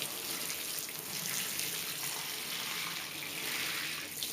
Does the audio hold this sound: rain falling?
no